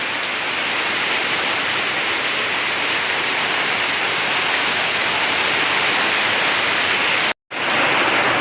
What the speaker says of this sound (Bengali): পরিমাণের মতো বৃষ্টি নামতে আছে